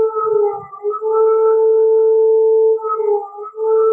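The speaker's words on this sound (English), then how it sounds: "Is someone playing with the siren?" A civil defense warning siren sounding in Lithuania during a tornado alert: a steady, loud wailing tone that dips briefly and resumes, with a short break near the end, held on one sustained pitch.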